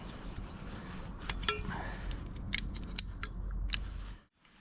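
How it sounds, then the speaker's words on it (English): A plastic piece is wound off a bolt end during a driveway clutch swap on a Vauxhall Nova with a 2.0 F16 gearbox. Close, crisp snipping clicks and light scraping recur irregularly over a low background, then stop abruptly. "I'm now winding that bit of plastic off the end"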